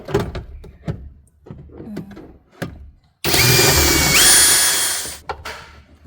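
Power tool whirring loudly for about two seconds as it backs out a seat side panel bolt inside a VW Passat CC, with scattered clunks and handling knocks before and after.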